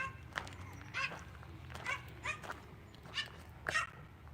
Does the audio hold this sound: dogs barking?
yes